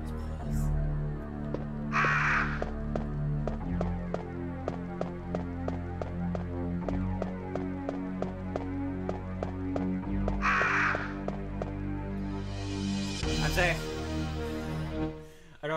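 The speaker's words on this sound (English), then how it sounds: "I don't have to worry about the crows." Crows caw in the Resident Evil video game, two short harsh calls spaced apart, over steady layered game music with a person talking throughout.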